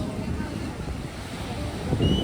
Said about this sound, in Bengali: এই হচ্ছে ভারকালা বিচের পরিবেশ, দারুণ সমুদ্র